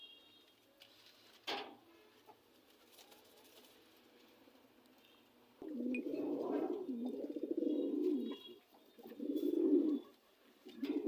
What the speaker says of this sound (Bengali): আর আপনারা এখন স্ক্রিনে দেখতে পাচ্ছেন এখানে একজোড়া মুখী কবুতর